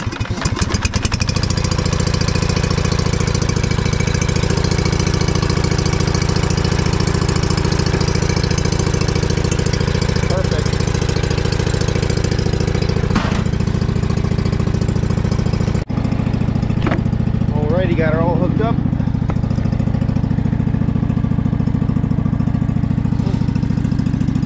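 A riding lawn mower engine runs loud and steady close by for the whole stretch, a constant droning idle with a slight change in tone partway through.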